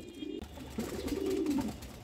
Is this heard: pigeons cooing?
yes